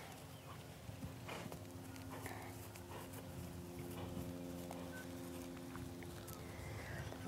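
A horse's hooves clip-clop steadily at a trot as it circles on its own, in a continuing loop, fairly distant amid outdoor background noise.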